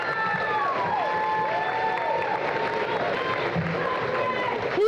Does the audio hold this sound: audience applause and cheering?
yes